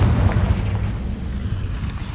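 A dense, rumbling fire-spell blast from Hogwarts Legacy on PS5, a continuous loud boom with crackling texture filling the whole moment, no voices.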